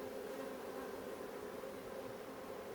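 An overwintered honeybee colony buzzing softly during a hive inspection, a faint continuous hum with no voices.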